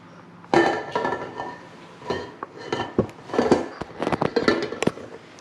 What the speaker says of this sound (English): next, I'm going to add my bowl to the mixer